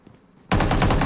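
Automatic gunfire in a shooting video game bursts in halfway through after near silence, a loud rapid stream of shots that runs to the end.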